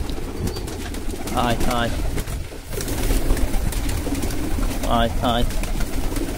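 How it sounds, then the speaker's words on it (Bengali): Pigeons coo in a home loft while feeding their young, with two distinct pairs of throaty coos close to the microphone. A voice calls out to the birds over a steady background hum. "এই যে আমার কবুতরের লফট, এই যে কবুতর সব বাচ্চা টাচ্চা খাওয়াচ্ছে"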